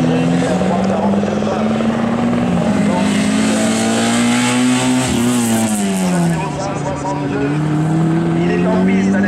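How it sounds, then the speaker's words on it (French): A 1400 cc class race car on a slalom course revs hard, its engine note climbing and dipping through gear changes and corners, loud and sustained close by, with a commentator talking over the engine. "Il est en piste, Alex"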